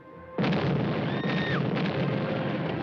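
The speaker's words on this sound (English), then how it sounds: "Somebody even brought fireworks." Fireworks burst with a sudden loud blast that rolls into a sustained crackling roar, a faint rising whistle threading through it, all close and without speech.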